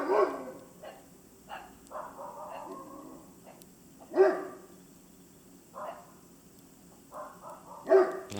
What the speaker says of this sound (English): 3 different dogs going off. 3 different houses.